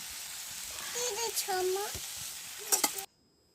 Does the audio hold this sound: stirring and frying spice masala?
yes